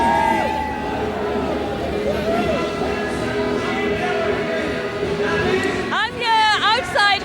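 A huge crowd of all ages celebrates the millennium outside Cardiff City Hall, a dense hubbub of chatter and cheering mixed with music, with a bright burst of whistles or horns near the end.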